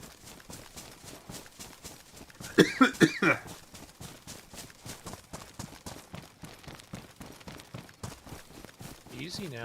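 A character coughs several times in quick succession in DayZ, a sharp close burst over steady rhythmic footsteps, with a few voices talking around it.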